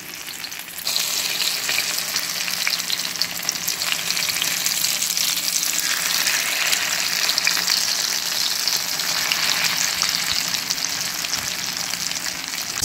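Eggplant for tortang talong frying in a pan, a steady, loud crackling sizzle that runs unbroken for the whole stretch after a brief quieter start, with no talking.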